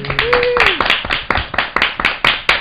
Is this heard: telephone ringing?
no